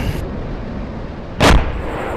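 A tank cannon fires at a T-34 in a video game, one sharp booming blast standing out over a constant engine drone, close and loud.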